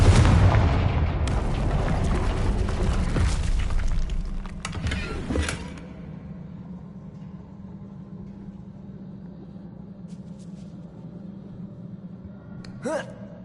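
Confringo fire spell blast in Hogwarts Legacy on PS5, a loud booming burst with crackling debris that fades into a low ambient hum, then a sharp smaller impact near the end.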